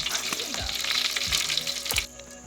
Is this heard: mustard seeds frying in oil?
yes